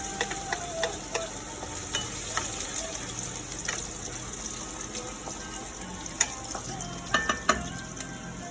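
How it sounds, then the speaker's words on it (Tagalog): Onions frying in hot oil in a pan for pad thai, a soft steady sizzle broken by scattered clicks and stirring taps, fairly faint and close. "nagginit na tayo ng mantika. Yes, then, unahin natin ng sibuyas."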